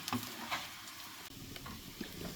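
Soft, steady sizzling of onion and carrot frying in a pan, with occasional light scraping and stirring clicks.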